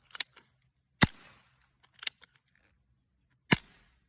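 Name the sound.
Barra 1858 BB pistol being shot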